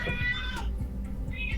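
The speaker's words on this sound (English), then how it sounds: "And a cat. Come here, cat." A cat meows close by, one drawn-out plaintive call and then a shorter second meow over low background hum.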